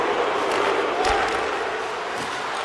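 A large crowd roars steadily with jeering noise, a dense, continuous wall of voices in a big arena: a home crowd jeering at a hockey game in the NHL 24 video game.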